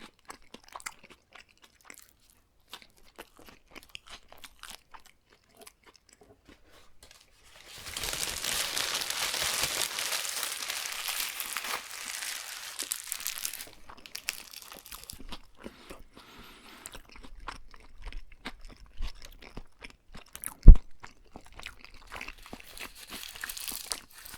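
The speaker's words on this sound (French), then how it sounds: "Et une dernière bouchée." A Burger King Big King burger bitten and chewed up close: a few seconds of near silence, then a dense stretch of crunching and moist munching that thins into softer chewing with one sharp sound near the end.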